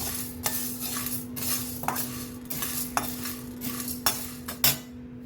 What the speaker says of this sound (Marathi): थोडीशी नॉर्मल सारखं हलवत राहायचं आहे कारण कढई खूपच गरम आहे